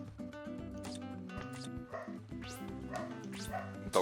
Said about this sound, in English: Dog's barking like crazy in the background right now.